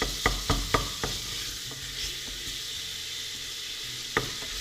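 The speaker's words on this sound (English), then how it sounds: "now we fry it until you don't have any" Chopped chili con carne ingredients frying in a pan for macaroni, a steady soft sizzle with a few sharp clanks of stirring near the start and one near the end.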